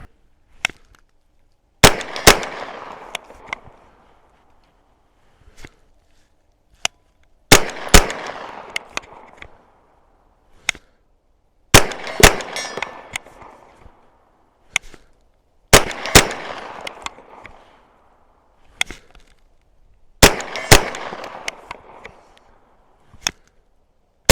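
A pistol fitted with a red dot sight fires outdoors at dusk in Minnesota in sharp, loud single shots that come in small clusters of two to four, separated by quiet pauses of a few seconds.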